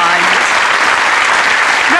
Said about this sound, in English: ladies and gentlemen, give her a round of applause.